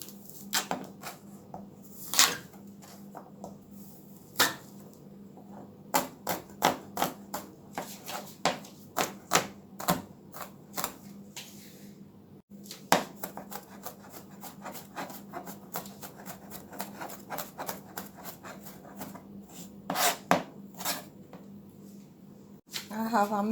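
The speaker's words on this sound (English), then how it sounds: "I'm gonna take 3 cloves and mince that up" A knife minces garlic cloves on a cutting board in a home kitchen, giving irregular, close, sharp chopping taps that come in rapid bursts with short pauses, while a person talks throughout.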